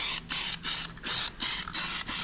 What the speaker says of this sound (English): why not just spray paint this too?